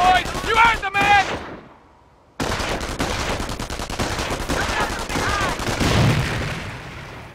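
Rapid machine gun fire and battle noise in the strategy game Company of Heroes, continuous crackling bursts with a brief lull, while voices speak over parts of it.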